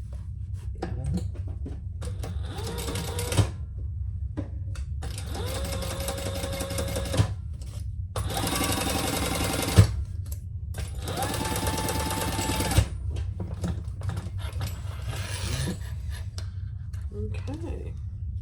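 Sewing machine stitching a seam on a fabric sling bag, running in several loud buzzing bursts of a few seconds each with pauses between, a person talking quietly in the gaps.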